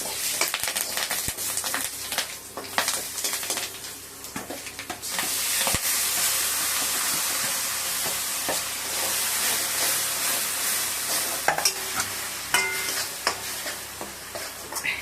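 Curry leaves crackle and sizzle in hot oil, a busy hissing spatter with occasional sharper pops and a bit of stirring, fairly quiet and steady.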